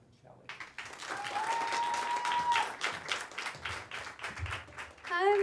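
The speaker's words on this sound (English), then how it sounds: "How about a nice round of applause for Angelina Botticelli." Audience applause and cheering welcome a performer onto the stage at an evening event, rising and staying fairly loud throughout, with crowd voices and whoops mixed in.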